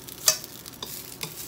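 Yakisoba noodles being stirred and tossed in a hot pan for a red miso dish, with soft scraping and clacking of the spatula over a faint sizzle, a few sharper hits standing out.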